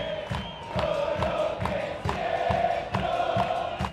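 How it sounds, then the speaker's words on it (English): A dense crowd of mourners for Diego Maradona fills the streets of Buenos Aires, chanting and cheering in steady rhythmic surges with repeated sharp beats that carry throughout. "Even in death, Diego Maradona pulling a crowd, flooding the streets of Buenos Aires."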